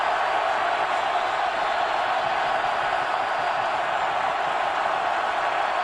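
A football stadium crowd at a college game between Baylor and West Virginia roars in a constant, dense wall of cheering noise that stays loud and unbroken from start to finish.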